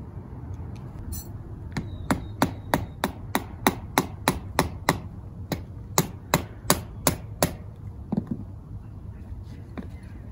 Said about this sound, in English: you just anchor one peg into the ground